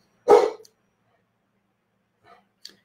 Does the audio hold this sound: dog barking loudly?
yes